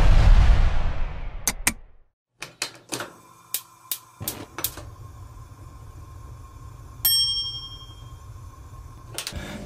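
Notification bell sound effect for a French channel intro: a series of short, sharp struck clicks and dings, one bright ringing chime near the end, loud and alone with no talk.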